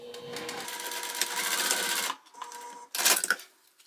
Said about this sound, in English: We're going to pull that exterior back and just sew again with that same seam allowance connecting